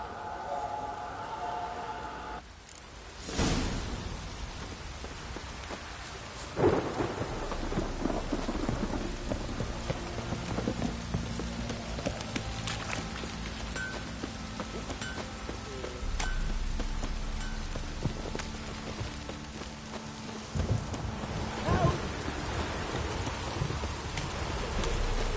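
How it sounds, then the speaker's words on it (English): Rain and rolling thunder from The Witcher 3 game world, a steady downpour hiss broken by several deep thunder rumbles and cracks, with occasional hoof clip-clops and faint voices over the storm. "This downpour's a bastard in it."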